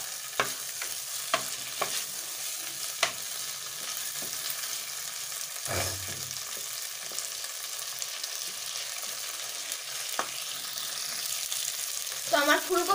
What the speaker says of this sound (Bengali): আমি ফুলকপিগুলো দিয়ে দিলাম, এগুলো ভালোভাবে মিক্স করে নেবো আলুটার সাথে।